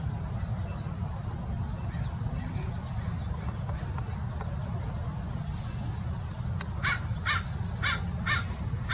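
Crows mobbing an owl perched deep in a tree give a short run of harsh caws, clustered near the end over steady low outdoor rumble, moderately distant.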